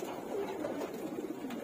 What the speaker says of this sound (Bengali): কবুতর উড়ে নামছে, দেখেন কিভাবে হাঁপাচ্ছে।